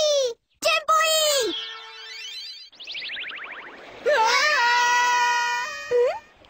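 A cartoon character in the Chimpui animated series screams and wails in fear, with several loud, wavering cries and whimpers separated by brief gaps.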